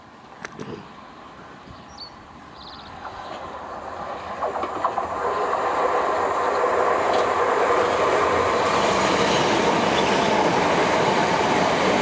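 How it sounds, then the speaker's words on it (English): A train rolls through Ford station, its rumble swelling from faint to a loud steady roar with rhythmic wheel clatter that holds to the end. "There's a train coming."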